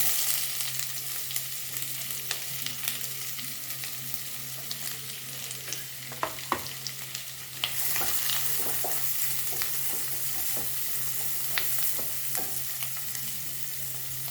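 Chopped onion sizzling in hot oil with cumin, a steady close frying hiss with occasional stirring clicks, the sizzle swelling midway.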